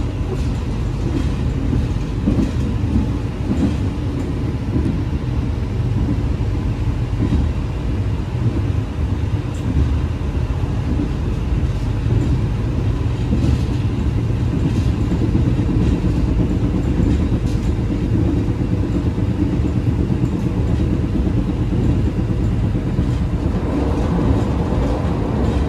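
The Taksaka express train running fast near the Notok tunnel, heard from inside the carriage as a loud, continuous rumbling roar with faint rhythmic wheel clatter throughout.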